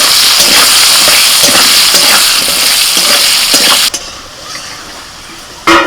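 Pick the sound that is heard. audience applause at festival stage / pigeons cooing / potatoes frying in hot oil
potatoes frying in hot oil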